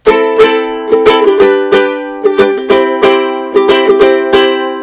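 A ukulele strums chords in a lively down-up rhythm, bright and close, with crisp strokes and ringing notes, played alone.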